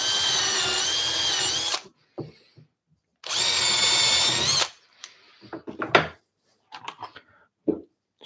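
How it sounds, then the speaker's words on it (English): Two loud bursts of a small electric drill boring into a wooden board clamped in a vise, each lasting under two seconds with a pause between, followed by light knocks and tool handling while building an Adirondack chair. "Just something to drill on."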